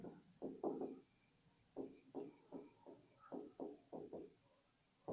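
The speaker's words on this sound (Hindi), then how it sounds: "तो मैं लिखता हूं यहां पे" A pen scratches across paper while differentiation problems are worked out, short bursts of quiet, close scribbling separated by brief pauses.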